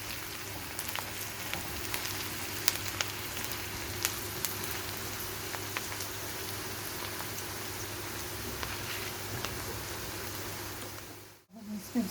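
Onion and chopped ginger frying in a pan, a steady close sizzle with faint scattered pops throughout, ending with a brief clatter.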